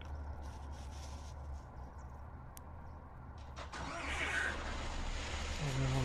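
A truck engine turning over and catching in Euro Truck Simulator after an engine fault, a low steady drone rising into a louder running engine in the second half, with voices talking over it.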